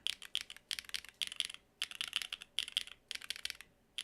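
Typing on a KBDfans Athena1800 mechanical keyboard fitted with Hermes switches: quick bursts of crisp, moderately loud keystrokes in uneven runs, separated by brief pauses, close up and with no voices.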